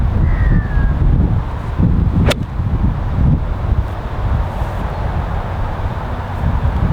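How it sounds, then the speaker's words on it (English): Strong wind buffets an outdoor golf course, producing a loud, continuous roar of microphone wind noise with gusty low rumbling throughout and a faint passing tone near the start. "really strong left to right wind here today"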